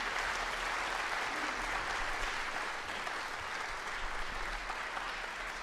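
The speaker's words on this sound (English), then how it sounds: "And one more round of applause for them." Steady applause comes from an audience at a young chamber musicians competition as a string trio from Atlanta finishes playing. The clapping is even and fairly soft, sustained for several seconds with no voices over it.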